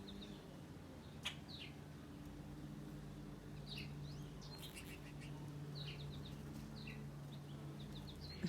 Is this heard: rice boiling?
no